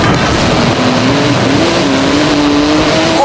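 A racing car engine revs loudly and close in Forza Horizon 4, its pitch climbing and falling in sustained waves as the car accelerates and shifts.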